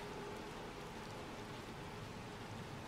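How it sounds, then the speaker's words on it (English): Soft rain hisses steadily in the video game Little Nightmares 2, a faint, even wash of drops with no speech over it. "It's very rainy all the time here,"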